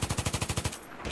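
Rapid automatic gunfire from a rifle in the video game Battlefield 3, about nine evenly spaced loud shots in a quick burst that stops abruptly, leaving a short quiet tail.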